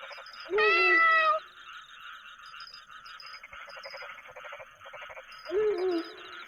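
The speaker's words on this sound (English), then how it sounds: "Heavens, that made me jump. It's only a kitty." Two drawn-out cat meows sound in the horror video game Undying Legend, one at the start and a shorter one near the end, clear and close over a quiet, chirping ambient backdrop.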